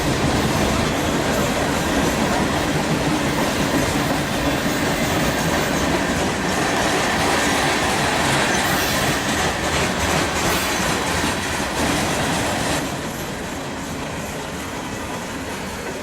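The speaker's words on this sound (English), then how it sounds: "Finally, after a 2-hour wait, CSX Q425 came through at 11:43 a.m." CSX Q425, a freight train, rumbles past close by in a loud, continuous roar with clattering wheels that eases off slightly near the end; no voices.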